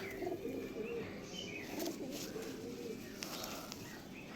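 Pigeons coo steadily in a loft where several birds, including white and high-quality fancy breeds, are kept; soft repeated low cooing runs throughout with faint chirps, while a person talks quietly in the background.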